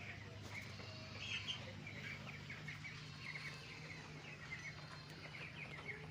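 Chickens on a poultry farm cluck and murmur steadily at close range, with soft overlapping calls and occasional louder clucks over a low barn hum and no talking.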